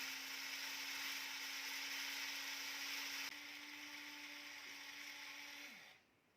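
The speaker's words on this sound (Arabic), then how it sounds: "هنبدأ بقى نطحن الرز بتاعنا كده" An electric grinder steadily mills rice for rice kofta, a loud continuous high whir that holds level and then winds down near the end, with no voices.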